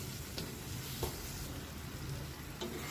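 Chopped taro and tomato fry in oil in a pan with tilapia, giving a steady, close sizzle with a few faint clinks of stirring.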